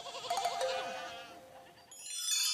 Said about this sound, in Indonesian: Ada 3 domba super gemuk yang berkeliaran.